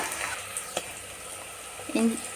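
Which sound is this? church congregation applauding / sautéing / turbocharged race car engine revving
sautéing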